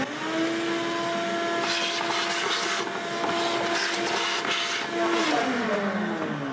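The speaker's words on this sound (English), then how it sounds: "So the next thing I'm going to do is vacuum out the bottom of the airbox." Shop vacuum cleaning out the bottom of the air filter box on a Ford F-150 EcoBoost truck, a steady close whine with a high-pitched tonal hum that shifts in pitch as the nozzle moves, with no talking.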